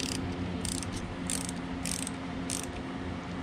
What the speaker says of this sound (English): we're gonna go ahead and loosen this one